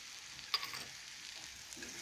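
Red chilli powder and garam masala sautéed in a pan for a potato kulambu, giving a soft steady sizzle with one brief clink of utensil near the start; quiet and close, with no voices.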